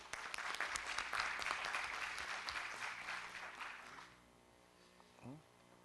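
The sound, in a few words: audience applause for a speaker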